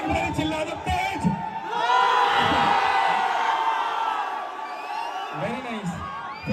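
Large concert crowd in Danapur, Patna, shouting and cheering loudly, with whoops and yells swelling into a sustained roar before easing, amid voices close by.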